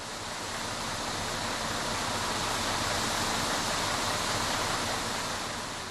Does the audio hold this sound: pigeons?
no